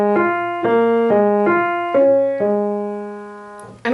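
Solo piano melody from a song, two bars of clear single notes struck in a steady, evenly spaced rhythm, each note ringing briefly before the next, played close and alone without talk.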